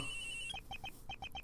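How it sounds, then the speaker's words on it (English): A telephone rings in the Ace Attorney Investigations: Miles Edgeworth video game, a rapid run of bright electronic trills pulsing evenly after a held tone fades. "there's the phone"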